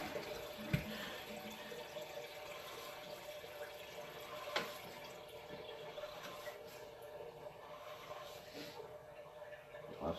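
Sewer water cascading down through an offset pipe in an underground sewer line beneath a Berlin, New Hampshire street, a steady rushing wash with a few sharp knocks, under intermittent talk.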